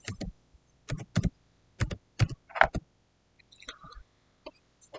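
Keys and a mouse on a computer click sharply in short, sparse bursts, several distinct taps close by with quiet gaps between them.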